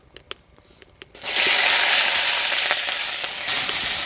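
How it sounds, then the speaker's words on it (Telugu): A handful of light clicks, then chopped green chilies hit hot oil and a loud, dense sizzle suddenly fills the space and keeps going close by, without any talking. "20 కారం ఉన్న పచ్చిమిరపకాయలు ఇలా ముక్కలుగా కోసుకొని ఈ నూనెలో వేసి దోరగా వేయించుకుందాం"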